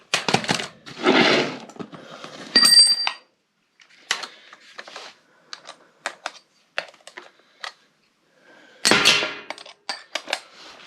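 Blower unit being pulled out of a home furnace during a fall furnace check: scraping metal clatter and clunks, then a burst of sparse knocks and taps, with a louder rattling handling noise near the end.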